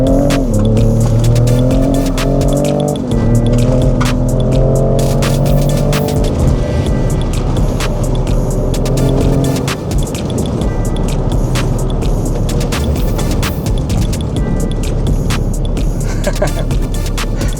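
A Ford F150 Raptor drives off-road in 4x4 over rough ground. At first a loud engine drone with shifting pitch is heard, then broad rumbling road and tire noise takes over, with scattered knocks and thumps, and no talking.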